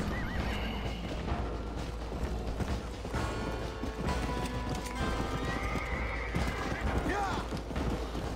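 Horse hooves clip-clop at a gallop with repeated whinnies in the Western video game Red Dead Redemption on PS4, layered with game noises and someone talking over the action.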